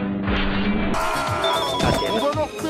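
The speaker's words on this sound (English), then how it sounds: "Phone ring." A phone rings during a multiplayer video game, an electronic ringing heard amid loud clashing game sounds and background noise, with no clear talk over it.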